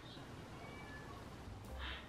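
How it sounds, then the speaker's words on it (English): A cat meowing at a bedroom door, two faint short meows, one at the start and another near the end, over quiet room tone. "My cat just meowed at my door."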